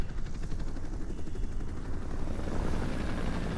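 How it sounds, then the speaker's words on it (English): Enemy helicopter passing overhead in Modern Warfare Remastered, a steady rotor drone with a low rumble that swells slightly toward the end, heard alone with no talk. "You hear that? It's a enemy helicopter."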